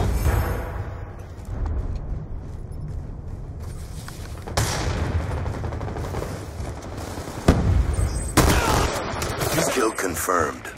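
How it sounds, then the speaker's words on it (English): A Hellstorm missile strike in Call of Duty Black Ops 2, with dense, loud explosive blasts and gunfire-like bursts rolling over sustained battlefield rumble, and sharper impacts near the middle and end. "Friendly Hellstorm missile inbound."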